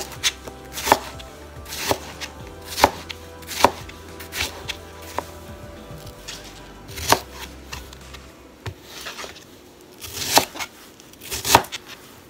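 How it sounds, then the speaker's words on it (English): A knife chops watermelon rinds into small pieces on a cutting board, with sharp, distinct cuts at a steady, unhurried rhythm, close and clear with no talk. "Then, slice this into small pieces."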